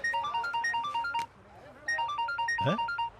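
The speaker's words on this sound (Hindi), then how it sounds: "हिटलर का फोन" A phone ringtone in a Bollywood action film plays a repeating electronic melody of bright beeping tones, pauses briefly, then resumes, with a short vocal sound near the end.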